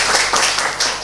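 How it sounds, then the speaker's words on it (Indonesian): Brief burst of clapping from a small group in a classroom, a few claps rising and falling over about a second. "tepuk tangan buat kita semua"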